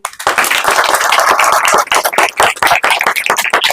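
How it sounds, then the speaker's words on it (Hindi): A congregation claps loudly in rapid, uneven bursts at a Hindi church gathering in Rishikesh. The clapping is close and dense, with brief dips between bursts. "जोर से ताली बजाएंगे"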